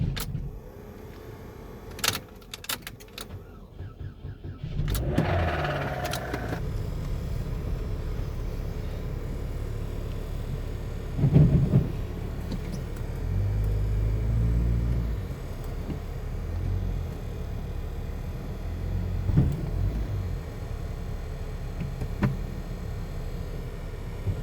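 An old car's engine cranks a few sharp times, then catches and settles into a steady low rumbling idle with occasional bursts of revving, heard close up with no talking.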